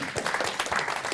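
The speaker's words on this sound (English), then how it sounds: "So round of applause for Gemma." An audience at a talk on agile enterprise change claps for a presenter, a brief, moderately distant burst of mixed applause.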